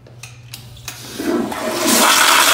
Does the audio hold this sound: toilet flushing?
yes